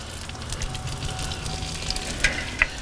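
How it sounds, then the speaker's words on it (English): Salmon fillet skin sizzles steadily in hot ghee, a continuous crackling hiss with a couple of sharper pops near the end. "you want to hear that sizzle just like that"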